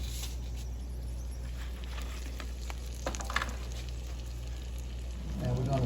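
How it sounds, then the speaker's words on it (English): Steaks basting over low heat in a pan of butter mixture give off a steady, close sizzle and crackle that holds evenly throughout, with a low background hum. "I'm gonna baste that steak on that low heat for about 4 minutes."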